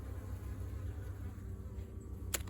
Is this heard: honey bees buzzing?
yes